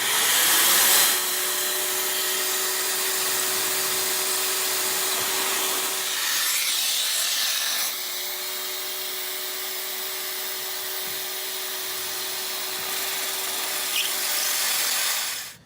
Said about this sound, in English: Now it's back to the drilling jig and cutting those holes for the barrel.